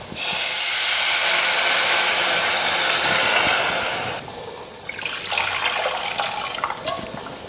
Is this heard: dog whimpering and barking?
no